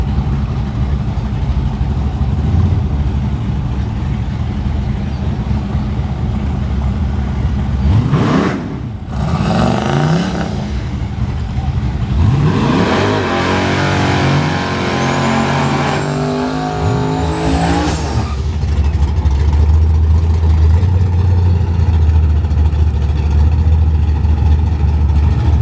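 A blue square body truck with a twin turbo LS engine drag races at Newport Raceway, idling loudly before launching into roaring, revving passes that swell and fade, with other engines rumbling nearby.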